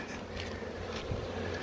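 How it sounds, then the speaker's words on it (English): Honeybees buzz steadily during a beehive relocation, a faint continuous hum with soft rustling and no voices. "almost all the bees that were in the base board from the vacuum will start to fan towards the new entrance"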